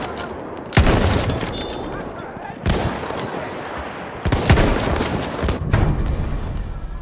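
Loud bursts of machine gun fire in a video game, several long sustained volleys separated by brief gaps, close and booming.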